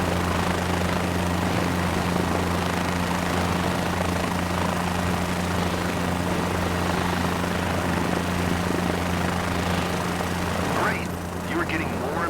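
Helicopter in Microsoft Flight Simulator 2024 lifts into an 8-foot hover as the collective is raised, a steady loud rotor drone with a low engine hum throughout.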